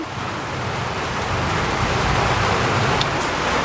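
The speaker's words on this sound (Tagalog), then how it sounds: "So, ulan eh." Rain falls steadily and densely, a close, even hiss that holds at constant loudness throughout with no voices.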